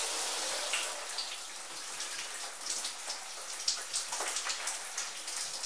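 Water pattering and splashing steadily during a bath, with bath gel in use; a continuous soft spray with scattered droplet taps, moderately quiet and without voices.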